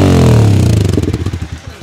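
A Yamaha R15 V4 motorcycle fitted with an Akrapovic full-system exhaust revs hard once, then the revs fall off into a fast, popping burble, loud and close with no talk.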